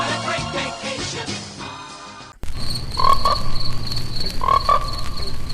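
Frogs croak loudly in repeated rhythmic bursts after an abrupt cut from a music passage, a dense near chorus with no talk.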